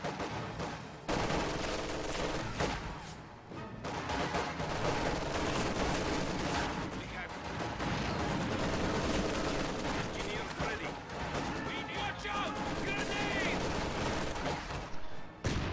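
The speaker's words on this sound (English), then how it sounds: "MG42, second MG42, manages to get a burst off on those conscripts and suppress them" Game-sound MG42 machine gun bursts in a World War II strategy battle against conscripts, dense rattling fire and explosions forming a continuous loud barrage with overlapping battle noise.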